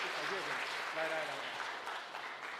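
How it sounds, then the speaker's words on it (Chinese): Church congregation clapping to welcome a visiting pastor at a Sunday service, a steady wash of applause at moderate distance with a voice speaking over it. "我们用拍手来欢迎吴牧师"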